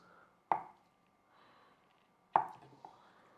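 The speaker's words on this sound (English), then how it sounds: "we're gonna slice our tofu" A knife cuts through tofu into chunks and knocks on a cutting board, two sharp close chops about two seconds apart with quiet handling between.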